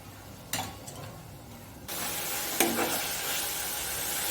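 Bajra masala with fresh green coriander cooks in a pan. A soft sizzle with a stir stroke swells into a louder, steady hiss halfway through, punctuated by a brief scrape.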